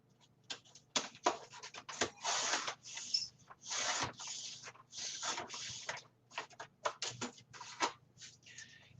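Cutting a paper spine for a 12 x 12 mini album, a series of close scratchy snips and rasping strokes in irregular bursts, fairly faint, with no speech.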